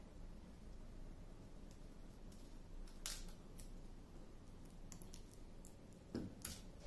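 Quiet, sparse snips of scissors cutting a paper stained glass pattern, short crisp clicks scattered over a faint steady background hiss, with no voices.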